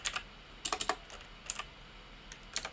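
Fingers tap out a password on a computer keyboard in short irregular bursts of quick, crisp key clicks, close and fairly quiet, with brief pauses between groups.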